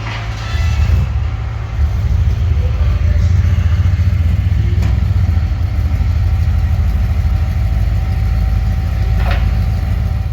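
A C8 Corvette engine rumbles through a modified exhaust muffler, loud and close, holding a deep steady idle throughout.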